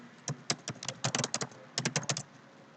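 Typing on a computer keyboard in quick irregular bursts of close, crisp key clicks, with a short pause before a final flurry.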